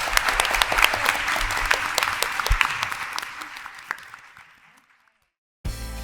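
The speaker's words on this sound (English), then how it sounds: "can we get one more round of applause for this amazing panel?" Audience applause for a panel at a talk on supporting students, loud individual claps that thin out and fade to silence after about five seconds before a brief new sound starts.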